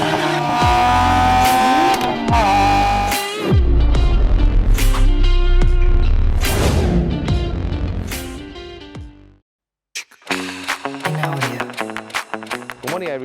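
A Lexus IS 300 F-Sport engine revs hard with rising pitch, dropping at each gear shift and climbing again, then falls briefly silent before a fresh run of revving resumes.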